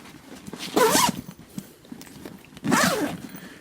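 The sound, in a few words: double zippers on a knife bag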